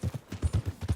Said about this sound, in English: Get a hold of that horse, will you?